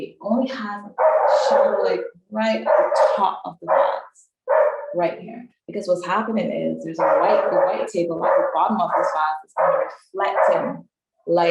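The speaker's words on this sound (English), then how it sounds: "I'm so sorry for the dogs, you guys." Neighbors' dogs bark in the background, mostly buried under steady, close talking that runs through the whole stretch.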